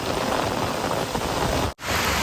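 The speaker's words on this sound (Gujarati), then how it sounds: "વરસાદ ચાલુ થઈ ગયો" Steady, dense hiss of heavy rain pouring down close by, continuous and loud, with a brief cut to silence near the end before it resumes.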